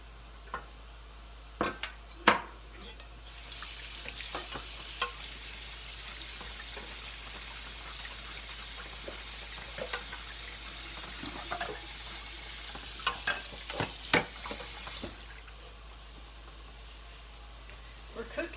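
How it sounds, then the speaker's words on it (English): Mushrooms sizzling in a pan during home cooking, with a long steady frying hiss and scattered clinks and scrapes of a utensil stirring, plus occasional kitchen clatter. "Once we throw the mushrooms in, we do that for about 2 minutes."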